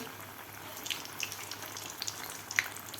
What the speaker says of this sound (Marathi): मिडियम गॅसवर आपल्याला व्यवस्थित हे मिरच्या तळून घ्यायच्या आहेत